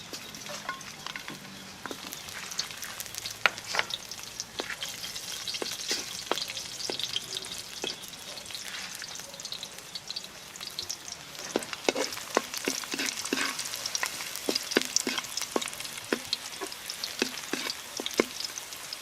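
Garlic sizzles steadily in melted butter in a pan for a pork kaldereta, a soft continuous frying hiss with scattered crackles and pops, close and fairly quiet, with no voices.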